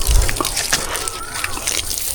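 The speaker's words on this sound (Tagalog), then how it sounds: "Ato sa spray ng tubig bi." Water is sprayed onto dwarf coconut trees on a farm in hot weather, a close, loud slosh and splatter with a steady hissing wash and a low thump at the start.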